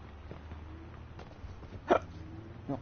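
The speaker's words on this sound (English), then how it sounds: "Oh, sorry, I've got a bit of hiccups." A man gives two short, sharp hiccups, the first clear and the second softer, over a quiet background of low noise during a casual game stream.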